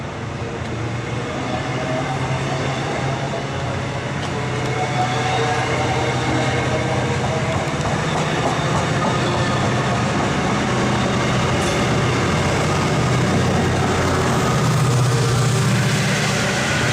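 A train departing on the WB&A railroad: a steady, loud rumble and low engine drone with rolling wheel noise that builds slightly over the whole stretch, with faint voices underneath.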